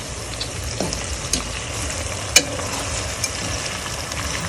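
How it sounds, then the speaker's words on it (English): Jamaican fried dumplings frying in a pan for breakfast, a continuous close sizzle with occasional clicks and a sharp knock of a utensil. "Dumpling them a fry."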